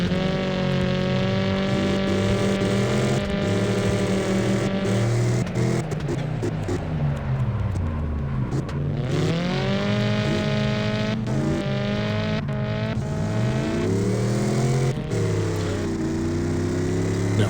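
A car drifting in the CarX Drift Racing 3 video game, a steady loud engine drone with rising and falling revs as the car slides, shifting pitch through the turns, heard alone without talk.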